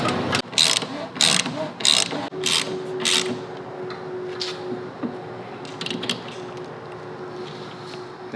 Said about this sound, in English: Jack the front end back up.